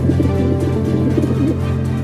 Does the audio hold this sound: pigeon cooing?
yes